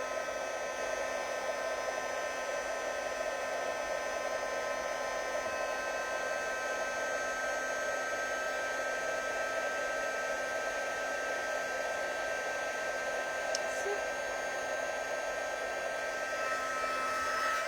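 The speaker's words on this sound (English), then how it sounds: "Love a bit of heat embossing." A heat tool blows hot air steadily for heat embossing a stamped card, a constant loud whooshing whine with a motor hum that runs unbroken throughout.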